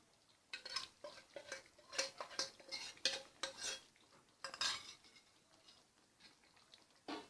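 Lightly toasted eggs being stirred into masala gravy in a pan, a series of quiet close scrapes and clinks of a spoon against the metal in irregular bursts over a faint simmer.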